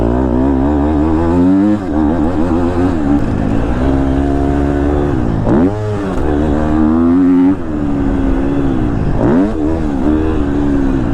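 Engine of a 2022 KTM 250 SXF four-stroke dirt bike under riding, loud and close, with the revs rising and falling repeatedly as the rider shifts through gears.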